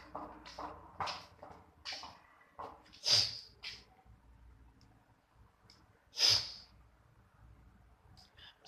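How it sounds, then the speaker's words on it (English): A person sniffs repeatedly in a quiet room, a series of soft, brief nasal intakes with two sharper, louder sniffs standing out. "Sniffing, that's what I do."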